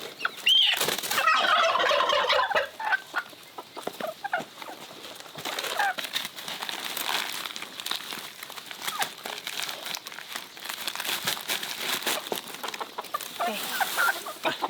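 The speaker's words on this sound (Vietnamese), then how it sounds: "Gà thiến này nó béo, nặng lắm." Fat, heavy capon chickens clucking and gobbling near a market, with rustling and crinkling handling noise throughout and a dense, busy texture of close bird calls.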